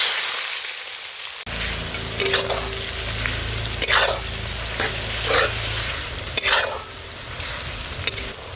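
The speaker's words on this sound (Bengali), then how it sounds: "এখন গোটা গরম মশলা ফোড়ন দিয়ে দেবো পেঁয়াজ কুচি" Whole garam masala and chopped onion hit hot oil with a sudden loud sizzle that keeps crackling steadily, broken by several scraping stirs, close up with no talking.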